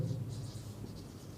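Brief soft pen-on-paper scratching as a narration line for a furniture purchase journal entry is handwritten, faint and steady under a low background hum.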